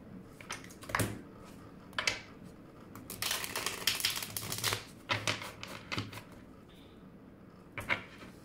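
Tarot cards being shuffled by hand, with bursts of riffling and flicking in irregular clusters and a longer busy stretch in the middle. The sound is close and fairly quiet, with no voices.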